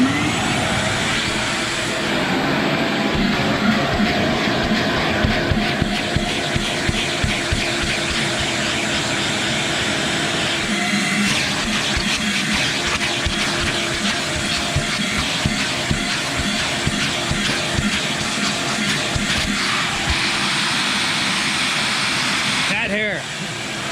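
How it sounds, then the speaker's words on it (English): A vacuum cleaner runs steadily with a loud, continuous whine and roar while someone cleans up cat hair during a Racetech installation, with occasional clunks and a voice talking over it. "And we'll vacuum."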